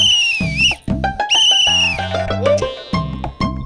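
A loud, high-pitched whistle is blown in several sharp blasts over a dense musical background, and the distinct bursts come in an uneven rhythm.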